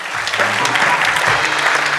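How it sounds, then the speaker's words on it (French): A church congregation applauds loudly and steadily, a dense wash of many hands clapping together for two seconds with faint voices beneath. "Allez, Église, on va les applaudir bien fort."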